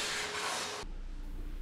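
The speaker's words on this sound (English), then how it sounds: "Then we vacuum the entire surface." Vacuum cleaner on a freshly tiled floor before grouting, a loud, dense rushing roar for under a second that cuts off abruptly into quiet room tone, with no one talking.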